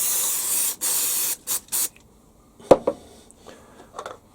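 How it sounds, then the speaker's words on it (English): Cleaner sprayed onto the back of a lathe faceplate in a home workshop: several short hissing aerosol bursts close by, followed by quiet clicks and small handling knocks. "I'll give it a spray."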